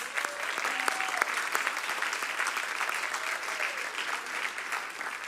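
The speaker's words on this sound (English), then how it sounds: "let's give these guys a round of applause" An audience applauds steadily as guests walk out for a discussion panel, a full, moderately distant round of clapping with a few brief voices rising over it, continuing evenly to the end.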